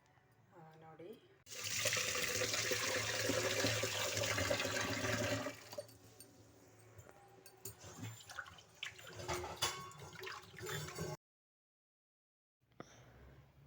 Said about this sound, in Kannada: ಸೊ ಅಕ್ಕಿ ಎಲ್ಲ ತೊಳೆದ್ಬಿಟ್ಟು ಇವಾಗ ನೀಟಾಗಿ ಅನ್ನಕ್ಕೆ ರೆಡಿ ಮಾಡ್ಕೊಂಡಿದ್ದೀನಿ